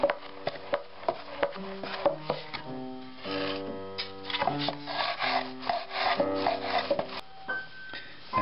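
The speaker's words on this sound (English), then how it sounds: "now I'm going to start taping it down in the opposite direction" Tape being wrapped and rolled over the belly of a paracord bullwhip, close rubbing, crinkling and rhythmic rolling sounds in a quiet room with no talking.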